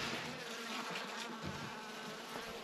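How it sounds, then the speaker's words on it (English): Honeybees fly loose inside a truck cab during late-autumn hive work, making a steady, close, continuous buzzing drone that fills the cab. "look at these bees"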